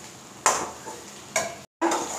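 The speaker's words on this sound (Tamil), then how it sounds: "உருளைக்கிழங்கு செய்ததுக்கப்புறமா லேசாக பரட்டி விடுங்க" Potatoes are stirred and fried in a pan for a spicy curry, with three distinct scraping stirs over a continuous close sizzle. Brief silence falls between the last two strokes.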